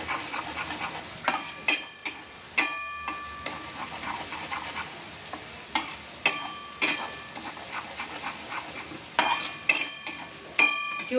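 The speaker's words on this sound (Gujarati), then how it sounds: "આ પેસ્ટને સાતળવાની સામાન્ય સહેજ લાલ થાય ત્યાં સુધી" Paste sautés over medium heat in a pan for a malai methi matar curry, a soft steady sizzle broken by sharp, repeated clinks and scrapes of a stirring spoon against the metal.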